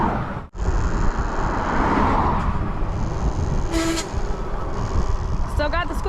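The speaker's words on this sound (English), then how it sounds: "Still got the squeaky brakes." An e-bike's brakes let out two brief high-pitched squeals a couple of seconds apart, over a continuous roar of wind and road noise outdoors.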